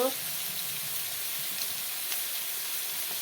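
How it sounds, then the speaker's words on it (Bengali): Sliced ridge gourd goes into a pan of frying potatoes and fish, raising a soft, steady sizzle and hiss that stays fairly faint and continuous throughout. "দেখো বন্ধুরা ঝিঙ্গাগুলো ঢেলে দিলাম"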